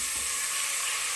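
Tomato frying in hot oil for egg biryani produces a bright, continuous hiss and sizzle, close and fairly loud throughout the brief moment.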